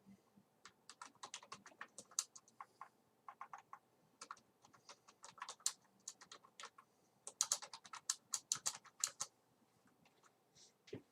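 Typing on a small plugged-in computer keyboard during a streaming-setup build, with quick irregular bursts of crisp key clicks, close and fairly quiet, in short flurries separated by brief pauses.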